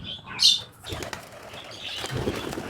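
A sudden burst of pigeon wings flapping near the start, then softer fluttering and rustling as the birds move about close by.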